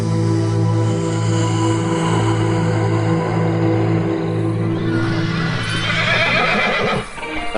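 A horse neighs loudly and at length at night, a close, wavering whinny that rises toward the end. Faint hoof-like thumps break in near the close.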